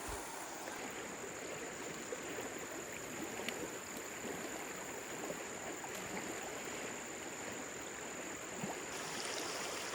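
River water flows steadily beside a forest trail at a canoe and kayak takeout, a continuous broadband rush that holds even for the whole stretch, moderately close and unbroken by voices.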